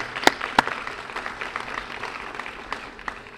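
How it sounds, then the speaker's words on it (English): A graduation audience at a summer academy ceremony claps together for the families who supported the graduates: a few sharp, close claps at the start, then a sustained, even spread of applause that slowly thins. "Let's give them all a big round of applause for their support."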